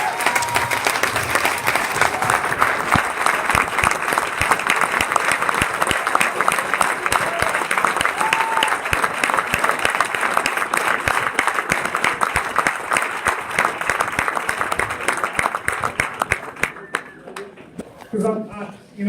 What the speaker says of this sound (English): give them a round of applause for all their service